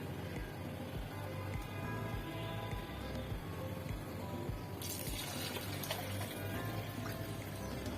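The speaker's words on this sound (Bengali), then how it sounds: "এখানে আমি পানি দিয়ে দিব।" Water is poured into a pot of khichuri while cooking, a steady splashing and trickling stream over a constant background hiss, growing brighter and fuller toward the end.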